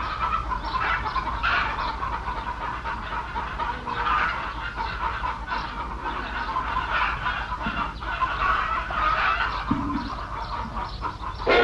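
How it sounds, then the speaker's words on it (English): Chickens cluck steadily at a moderate distance, a busy overlapping chatter of several birds that goes on throughout, with no talking. "Just chickens."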